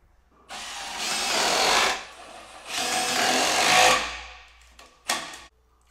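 A power drill drives a 4-inch GRK screw into a log canoe and kayak storage rack, whirring in two long sustained bursts followed by a short final spurt, close and fairly loud with no talking.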